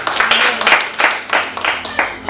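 Rhythmic clapping from a church congregation comes in steady bursts about three times a second, with voices murmuring underneath.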